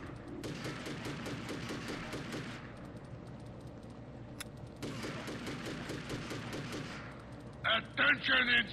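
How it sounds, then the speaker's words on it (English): Long rapid bursts of automatic gunfire in the video game Hitman: Contracts, two sustained volleys separated by a brief lull, followed by a few sharp shots near the end. "it seems like all the gunfire has stopped"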